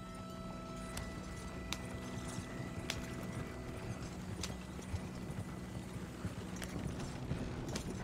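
Horse hooves clip-clop at a steady riding pace in a video game, with sharp periodic knocks over creaking wagon mechanisms and a low rumble, moderately quiet with no speech.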